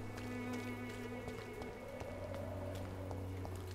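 Rain patters on surfaces in the video game Vampyr, a faint steady drizzle beneath a low ambient hum, with no speech.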